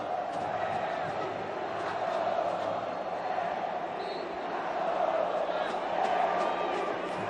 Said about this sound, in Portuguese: O torcedor do Vasco já solta um grito aí de eliminado.